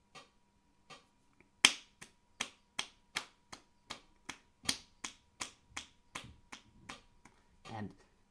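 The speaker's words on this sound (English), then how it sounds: "the 4/4 time signature is going on, and you clap over it." Single pair of hands clapping eighth notes in steady 4/4 time during a beginner rhythm lesson, sharp close claps evenly spaced after a couple of lead-in taps, in a quiet room.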